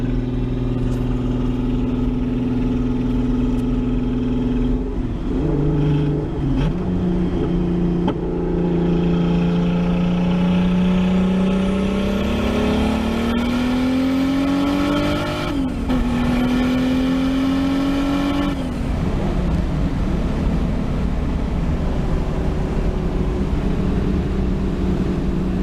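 A boosted car on its first test drive accelerating hard, the engine note rising steadily through the gears with short drops at each shift, loud and close from start to finish.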